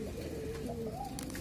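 Pigeons coo in a loft, a female trailing a male: close, steady throaty cooing with rising and falling pitch, a few higher calls layered near the end, no speech.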